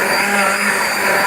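A handheld immersion blender purees butternut squash soup in the pot, a loud, steady whirring motor drone running continuously up close.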